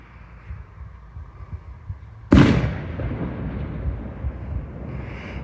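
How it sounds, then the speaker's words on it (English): Fireworks burst at night near a graveyard on Halloween: after a quiet, low rumbling stretch, one sharp, loud blast erupts, followed by a long crackling, rumbling tail that keeps going. "I do apologise for these fireworks"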